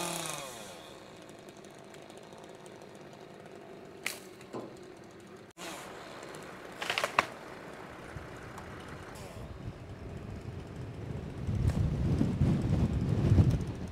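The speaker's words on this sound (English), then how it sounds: "It's a bit windy." Gusty wind blows outdoors on a farm, with a steady rushing hiss that buffets the microphone and swells into a heavier low rumble near the end, and no one talks.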